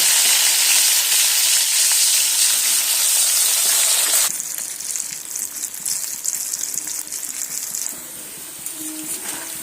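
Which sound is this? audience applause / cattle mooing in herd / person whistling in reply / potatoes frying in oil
potatoes frying in oil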